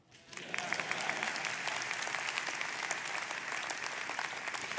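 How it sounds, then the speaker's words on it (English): Audience at a university presidential investiture breaks into applause, rising quickly after a brief quiet moment into sustained, full clapping that continues evenly to the end. "Applause."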